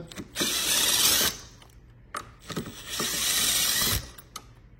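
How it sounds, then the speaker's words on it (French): Ratchet with a 6 mm socket undoing the handlebar nuts on an EGO MB1000: two long bursts of fast, close clicking, with brief handling noises and pauses between them. "on va faire la même chose avec une douille 6 mm. On va faire les écrous qui tiennent le guidon"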